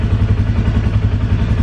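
A loud, close Polaris Ranger utility vehicle engine idling with a low, steady rumble and faint rattling, no voices.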